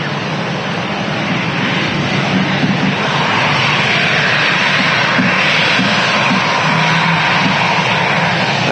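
Airliner at Manchester Airport, a steady broadband engine roar that holds loud and unbroken throughout, with no talk over it.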